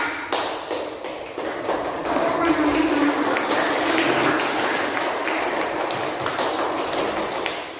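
Students in a classroom applaud a classmate with steady, moderately loud clapping from many hands lasting several seconds, with faint voices and shuffling mixed in.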